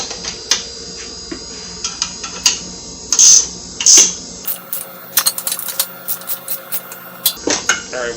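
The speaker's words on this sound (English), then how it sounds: "So let's tighten some of these bolts." Metallic clinks and ratchet-like clicks from tightening bolts on a receiver hitch being fitted to a 2021 Jeep Wrangler Rubicon, a scattered run of short, close taps and rattles with a few louder metal clanks.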